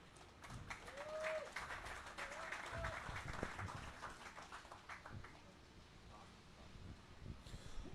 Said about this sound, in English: How about a big round of applause for the Astra stage?